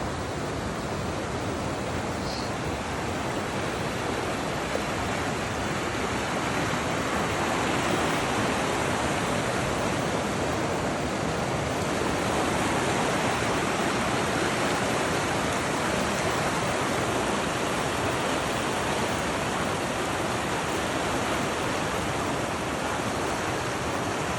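Water rushing steadily down a stream slide on a forest hike in Dupont State Forest, a dense continuous roar that stays loud and unchanging throughout, with no talking.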